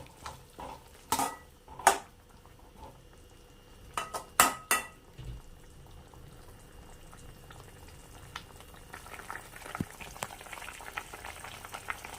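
Chilli powder is stirred into pumpkin pachadi in a pan, with several sharp spoon-on-pan clinks and scrapes early on, then softer, quiet sizzling and bubbling from the cooking mixture.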